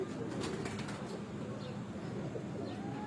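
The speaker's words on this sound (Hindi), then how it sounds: "ये आई जी अब काशी भाई के मेन जोड़ों वाले कबूतर" A flock of pigeons on a rooftop loft in Multan, with a steady, soft murmur of cooing and stirring birds running through the whole stretch.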